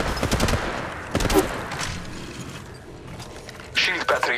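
Video game gunfire rattles in quick bursts of shots with mechanical clicks amid a loud combat mix, and a voice speaks over part of it.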